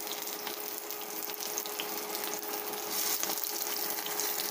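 Marinated sliced chicken breast fries in a pan with a steady, soft sizzle and crackle, quiet and even throughout, with no voices.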